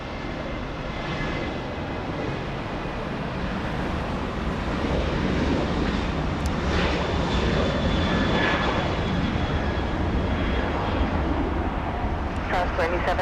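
An Air Premia airliner taking off at Los Angeles International Airport, a broad engine roar that swells and stays loud as it passes, with wind rumble and voices talking over it.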